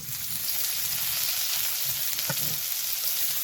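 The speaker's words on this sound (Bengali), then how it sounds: "এটা ভাজছি আর কি" Food fries in oil in a pan with a steady, close sizzle and crackle, plus a brief stirring scrape partway through.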